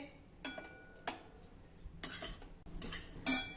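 Dal stirred and roasted in a heavy-bottomed kadhai over medium-low flame, with a few faint scrapes and clinks of the spoon against the metal spread across a quiet stretch.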